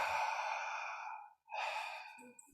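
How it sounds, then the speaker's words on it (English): Open-mouth breathing up close: a long, airy breath, a brief silent pause, then another full breath drawn through the mouth, loud and breathy throughout. "So this open mouth breathing"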